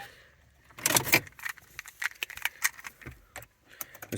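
Keys for a 2004 Mazda 6s V6 jangling and clinking in a hand, a burst of bright metallic rattles followed by irregular lighter taps, close and loud, with no talking.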